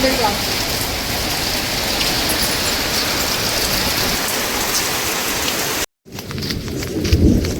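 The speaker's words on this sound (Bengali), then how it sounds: "প্রচুর বৃষ্টি পড়ছে।" Heavy rain pours down in a dense, loud roar, briefly cutting out near the end before resuming with closer splashing.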